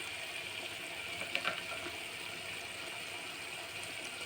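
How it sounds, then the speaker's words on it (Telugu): Cashews and raisins fry in ghee for carrot halwa, giving a steady, even sizzle with a couple of faint clinks of stirring, and no talk. "కాస్త నెయ్యిలో కాజు ద్రాక్ష బాగా వేయించుకొని"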